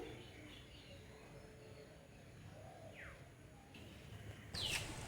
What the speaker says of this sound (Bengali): একবার শুনুন কি সুন্দর পাখি ডাকছে আশেপাশে